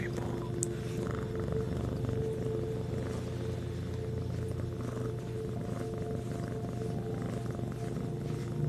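A Siamese point cat, an adopted male, purrs steadily up close, a continuous low rumbling drone that holds at an even level throughout without pauses.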